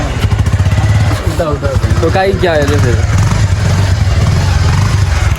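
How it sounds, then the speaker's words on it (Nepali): A motorcycle engine runs loud and steady close by, a continuous low throbbing drone, while people talk over it. "अब चाहिँ केटाहरूले चाहिँ बाइक स्टार्ट गर्छ अनि पनि चढ्नु पर्ने हुन्छ।"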